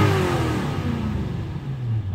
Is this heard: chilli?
no